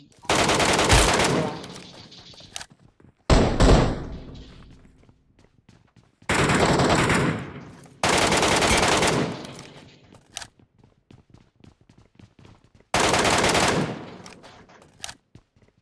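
Several separate bursts of automatic gunfire in PUBG Metro, loud and close, each lasting about a second or two with quiet gaps and scattered faint clicks between, under occasional talk.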